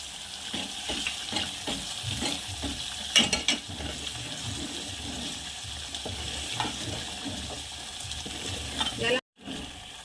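Spiced masala fries in oil on a slow flame for stuffed brinjal, a soft steady sizzle with scraping stirs and a few clinks of a spoon against the pan, close by, with a brief break near the end.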